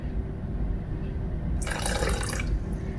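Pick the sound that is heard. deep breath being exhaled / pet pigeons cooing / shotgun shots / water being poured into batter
water being poured into batter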